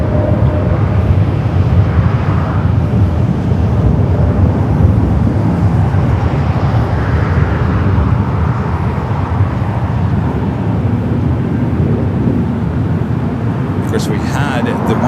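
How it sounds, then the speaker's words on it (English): EVA Air Flight 12 arriving at Los Angeles International Airport, a loud, steady jet roar that stays constant and close throughout with no talking. "We do have Eva Flight 12 coming up next for arrival."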